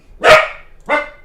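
A dog barks twice, close and loud, a longer bark followed by a shorter one after a brief pause, with no talking.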